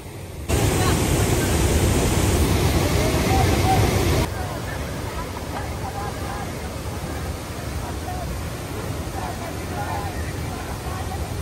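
A dangerous waterfall in the Konkan jungle near Mangaon gives a dense, continuous roar of falling water, louder at first and then steady, with a voice talking over it.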